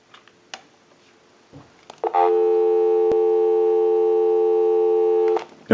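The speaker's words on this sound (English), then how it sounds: "Go ahead and give you some dial tone." A steady dial tone from an ITT 2500 desk telephone comes in after a couple of clicks and holds for about three seconds before cutting off.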